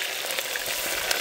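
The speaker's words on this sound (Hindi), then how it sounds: "प्याज, आलू, प्याज हमारा क्या तड़का लग रहा" Chopped onion and potato sizzle steadily in hot oil tempered with cumin seeds while veg pulao is cooked outdoors by a river. The close frying hiss runs without a break, with no voices over it.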